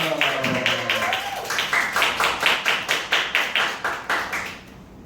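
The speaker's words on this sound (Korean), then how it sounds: "큰 박수로 모시겠습니다" An audience bursts into a full round of applause to welcome a speaker at a Bible study gathering, rhythmic claps building under a voice at the start, then staying steady before tapering off near the end.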